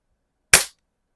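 A single sharp shot from a Crosman 760 air rifle at a target, one crisp close crack that dies away in a fraction of a second and is surrounded by silence.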